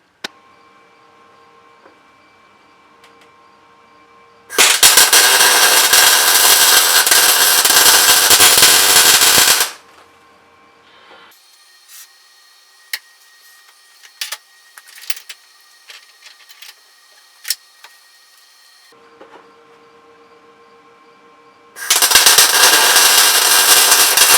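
Welding a custom aftermarket rear suspension arm on a stanced Accord: two long bursts of loud, dense crackling arc noise, separated by a quieter stretch of scattered clicks and taps.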